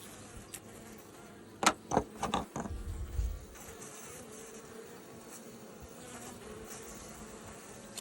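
Honey bees buzz at an apiary hive in poor condition, infested with mites: a faint, steady insect hum throughout, with a brief burst of louder knocks and handling noises near the hive early on, no talking.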